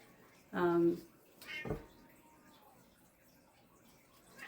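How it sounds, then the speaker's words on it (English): A cat yowls in the background, a loud drawn-out harmonic cry followed by a second shorter call, in an otherwise quiet indoor room. "I apologize for the yelling cat in the background."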